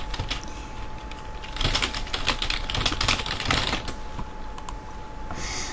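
Rapid keyboard clatter from typing chat in Minecraft comes in bursts of quick keystrokes, close and fairly quiet, with short pauses between runs.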